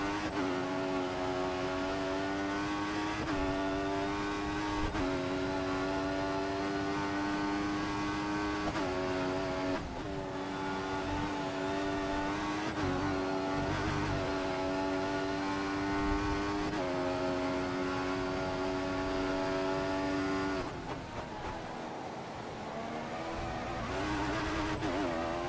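Formula One race car engine in the F1 2014 video game at the Australian Grand Prix in Melbourne, a loud, sustained high-pitched whine that drops sharply at gear shifts and climbs again, running continuously throughout without speech.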